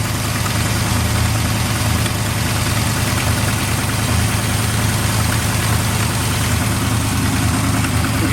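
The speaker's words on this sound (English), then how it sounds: "We can turn down that idle." The big block V8 in a Squarebody pickup truck idles loud and steady, a deep rumbling drone with an even rhythmic pulse that continues unbroken, with no talking.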